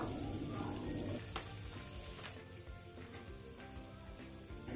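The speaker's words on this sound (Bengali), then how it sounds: "এবার ক্যাপসিকাম এবং পেঁয়াজ খুব ভালো মতো কিছুক্ষণ ভেজে নিচ্ছি।" Chopped capsicum and onion frying in a hot pan for garlic chilli prawns, a steady close sizzle with crackling pops and occasional stirring scrapes throughout.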